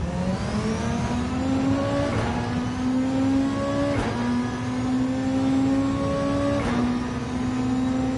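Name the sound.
Mustang race car engine in video game Gran Turismo 7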